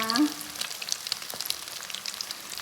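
Steady, crackling sizzle of a shrimp omelette frying in plenty of hot oil, close and continuous, with a brief voice-like tone at the start.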